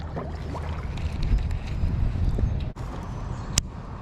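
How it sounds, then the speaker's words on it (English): Gusty wind buffeting the microphone in a steady low rumble, with a brief dropout and a sharp knock near the end. "The wind is starting to pick up."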